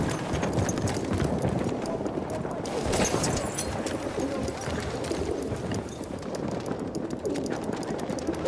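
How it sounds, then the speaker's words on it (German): Pigeon cooing in Battlefield 1 amid dense battlefield noise, soft bird calls mixed with clattering hoof-like thuds and steady rumble, with voices faintly present. "The pigeon is ready to be released."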